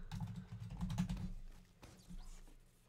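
Quick, light typing on a computer keyboard, a rapid patter of key clicks up close that thins out into a few scattered taps, quiet throughout with no voices.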